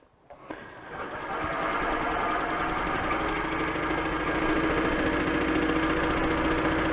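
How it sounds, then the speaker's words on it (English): A wood lathe speeds up to about 800 RPM while turning a workpiece. After a short start-up it settles into a steady, close, continuous mechanical whir and hum that holds to the end. "There we go, and I'll speed the lathe up a bit as well."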